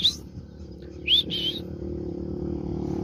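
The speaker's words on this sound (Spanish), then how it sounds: "Se escucha los cantar de los pájaros." Several short, bright bird chirps ring out over a low background hum, fairly faint and a little distant.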